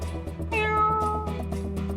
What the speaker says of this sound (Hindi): आपने बिल्ली की आवाज सुनी थी ना?